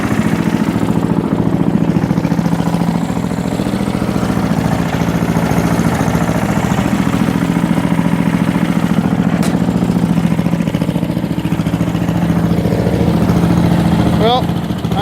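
An old MTD lawn tractor engine idles steadily and close, a continuous even chugging drone with no change in pace throughout.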